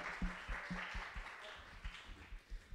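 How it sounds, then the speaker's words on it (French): Audience applause in a church service, a steady wash of clapping with a few louder individual claps standing out, moderately distant and fairly quiet. "On peut applaudir Joël."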